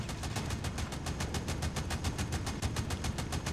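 Rapid, steady bursts of automatic fire from a shield turret in Call of Duty Mobile rattle continuously for several seconds, loud and close with no pauses or voices.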